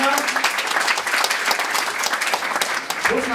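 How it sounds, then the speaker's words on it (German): A dense, loud burst of audience applause fills the room at a German stage reading event, steady clapping throughout with no talking over it. "Großen Applaus auch für Maiko"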